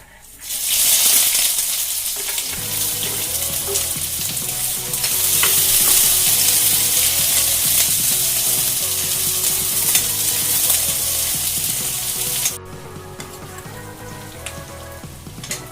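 Onions dropped into hot oil with a little sugar already in the pan, bursting into a loud, dense sizzle that holds steady for a long stretch before easing off near the end, with no talk.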